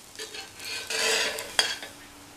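Paruppu poran poli, a sweet lentil-filled flatbread, fries on a pan over low heat with a soft, steady sizzle, brief stirring or utensil contact and a sharp scrape near the end.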